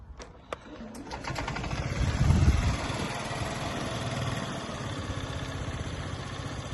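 A Honda Giorno AF-77 scooter engine idles close by, a low steady putter that swells briefly, with a few clicks and some light background sound.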